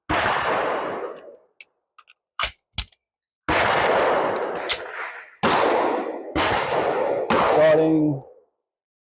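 Sharp, loud shots from a SIG P365 X-Macro pistol firing Federal Premium HST 124 grain defensive rounds, several separate reports in an uneven sequence with short gaps between them and brief noise trailing each one.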